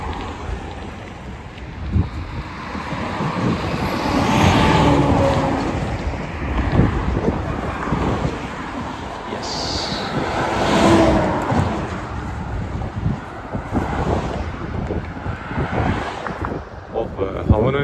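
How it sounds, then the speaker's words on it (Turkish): Steady wind rushing and buffeting against the microphone for the whole stretch, loud and rough, with swelling gusts and no clear talk. "rüzgarın şöyle esmesi ne kadar güzel ya"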